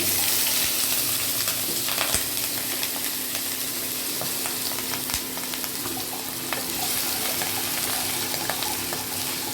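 Potatoes fry in oil with dried chilli, cumin and bay leaf, a dense close sizzle that runs steadily throughout, broken by small crackles and scraping stirs.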